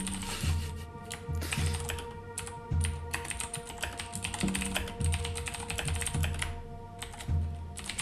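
Fast typing on a computer keyboard, a close, busy clatter of keystrokes in uneven bursts with short pauses, no voices over it.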